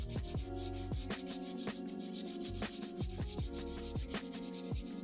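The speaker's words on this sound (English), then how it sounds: "it would be best to sand it down and paint over it" Sandpaper rubs back and forth over the painted midsole of a Jordan 3 sneaker in quick, steady strokes, close and continuous over a constant background hum.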